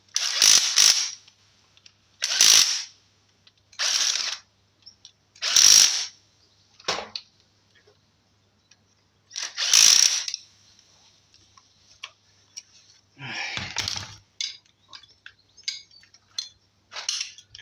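Ratcheting and tightening bolts by hand during an engine change on a Range Rover Evoque 2.2, heard as several loud, separate bursts of clicking a second or two apart, then a rapid rattling run with lighter ticks and no talk.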